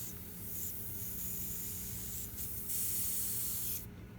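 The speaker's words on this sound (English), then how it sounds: "I'm going to turn the pressure down until it creates a stippling effect when I spray." An airbrush sprays paint at low pressure for a stippling effect on a galaxy painting, producing a steady, close hiss that runs throughout with slight shifts in intensity.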